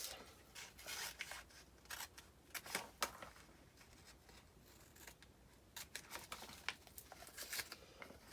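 Scissors snip out the corners of a cardboard gift box for advent calendar shelves, giving a close, quiet run of short crisp cuts and paper crinkles in irregular bursts.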